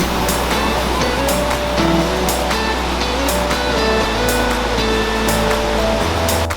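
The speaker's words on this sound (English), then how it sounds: "so that was the waterfall." Strong waterfall on the Rio Pirris in the Costa Rican rainforest near Quepos, a loud steady roar of rushing water with no pauses, filling the whole scene.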